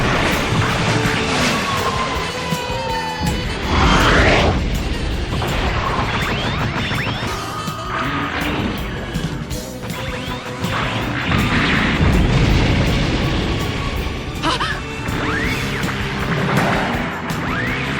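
Heavy booms, crashes and whooshing blasts roll through an anime space battle from Macross: Do You Remember Love, dense overlapping explosions with sweeping effects and continuous loud rumble throughout.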